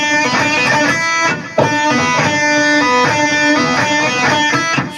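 An electric guitar plays a riff, picked down with pull-offs in a repeating rhythmic pattern, loud and close with one brief break partway through.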